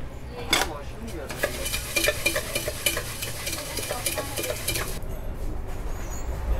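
An onboard vendor briskly stirs Odisha-style jhalmuri, puffed rice mixed with mustard oil and spices, in a metal container aboard a Puri–Visakhapatnam express train. Rapid scraping and rattling strokes repeat steadily and close over a low, rumbling carriage background.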